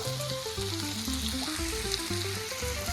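Pasta primavera vegetables frying in a pan, a steady sizzle with some stirring under a melodic background, no talking.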